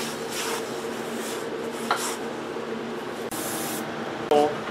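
Brake cleaner sprayed onto a drum brake assembly, a steady loud hissing spray running for several seconds with brief breaks, near the microphone, with a light metallic clink near the end.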